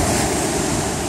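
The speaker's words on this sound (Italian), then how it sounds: "ora riviene un'altra onda, mi rivagna ancora" Sea waves breaking on the shore under a dark sky, a loud, continuous wash of surf close by with wind noise mixed in.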